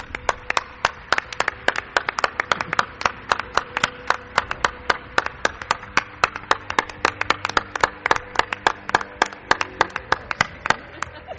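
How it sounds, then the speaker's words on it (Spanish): Studio audience clapping on a Spanish radio-style mystery show, sharp distinct hand claps in a fast steady rhythm, close and loud, continuing without pause. "quiero un aplauso, Clara Tauces."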